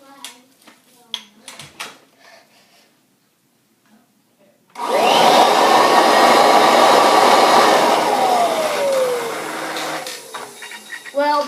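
A 1969 Kirby Classic upright vacuum cleaner switches on after a few clicks and quiet handling, then roars with a loud, steady motor whine and airflow that settles and holds for several seconds.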